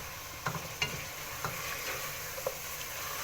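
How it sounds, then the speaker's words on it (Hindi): Crushed red chilli and spices fry in a pan for beef haleem, a soft steady sizzle under a few sharp clinks and scrapes of stirring. "1 से 2 मिनट तक हम करेंगे फ्राई ताकि मसालों की अच्छी तरह आने लग जाए खुशबू"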